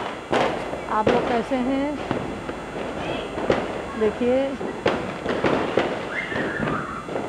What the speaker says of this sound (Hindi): तो बच्चे पटाखे भी छुटा रहे हैं।